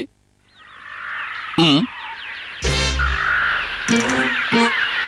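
Loud harsh caws and croaking bird calls come in bursts over a steady whistling, squawking chorus, with a few loud close thumps between.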